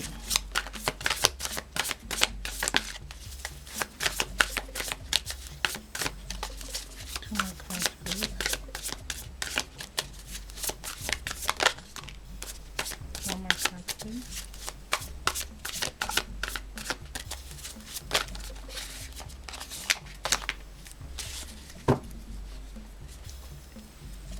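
Tarot card deck shuffled by hand: continuous, close riffling and flicking of cards with dense, irregular snaps for the whole stretch.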